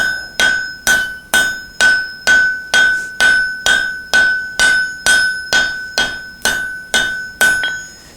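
Steel is hammered to shape an axe drift, about seventeen sharp, ringing blows landing in a steady, even rhythm, loud and close with no voices.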